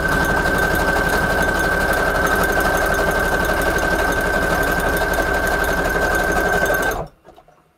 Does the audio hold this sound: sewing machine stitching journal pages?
yes